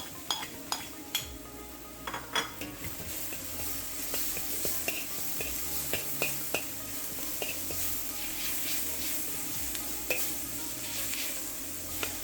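Minced garlic sizzles in a hot pan of halibut stir fry, a steady frying hiss broken by repeated clinks and scrapes of a utensil stirring against the pan.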